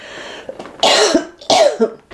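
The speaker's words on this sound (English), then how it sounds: "I am having coughing fits for you here" Two harsh, forceful coughs close by, each followed by a rough throat-clearing rasp, in quick succession like a short fit.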